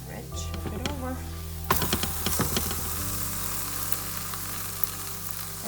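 Methi paratha frying in butter on a hot pan, with a steady close sizzle that jumps louder as the flatbread is flipped and then settles into a constant hiss, while a person talks over the first part.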